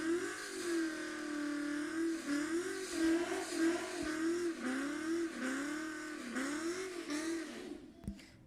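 Ford drag race cars roar down a quarter-mile strip, loud engines revving steadily with rising and falling pitch as they accelerate, ending in a brief fade and one sharp pop near the end.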